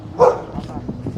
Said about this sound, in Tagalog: Ang laki ng aso.